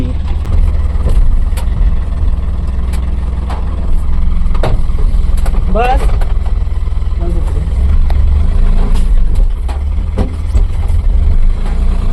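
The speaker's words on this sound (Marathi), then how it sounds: "मला रिवर्स घ्यावी लागणार आहे गाडी गाडी इथून जाणार नाही" A goods truck reversing on a rainy road trip, its engine running loud and steady close by with a low rumbling drone, while a person talks over it.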